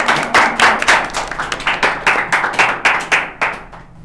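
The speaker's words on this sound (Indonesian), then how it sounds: "kasih tepuk tangan dulu dong, keren banget" A few people clapping in a podcast studio, close and loud, with sharp individual claps in a quick, slightly uneven rhythm that carries the whole stretch before thinning out at the end.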